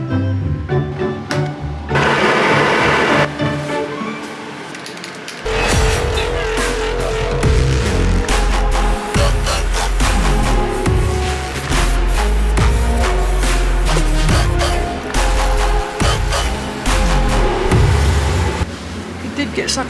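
Spray painting red safety paint inside a spray booth while the extractor fan runs, a steady dense broadband hiss and roar that holds through most of the clip and briefly drops near the start.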